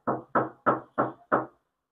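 Five evenly spaced knocks on a hollow metal body panel of a new Honda WR-V before sound deadening, each a short resonant, tinny thud, close and moderately loud, followed by silence.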